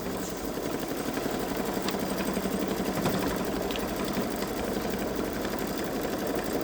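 A Babylock Solaris 3 embroidery machine stitches out a hummingbird design, its needle hammering in a fast, steady mechanical rhythm under a constant motor hum, close and loud throughout with no talking.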